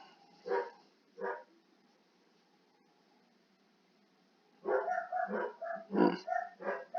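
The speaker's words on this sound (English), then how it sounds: "We are just chock full of little ass dogs that bark at mouse farts" Several small dogs bark in sharp, yappy bursts at moderate distance: two single barks early on, a quiet gap, then a rapid overlapping flurry of barking.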